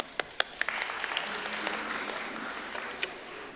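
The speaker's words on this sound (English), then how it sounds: "A round of applause." A church congregation applauds during a Sunday service, a sustained patter of clapping with a few sharp close claps standing out at the start, moderately loud and steady.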